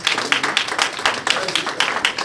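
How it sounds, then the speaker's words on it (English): An audience applauds a king, the Oba of Kaduna, at a public gathering, with steady, loud clapping carrying throughout and voices speaking over it. "Let us give the king a warm round of applause."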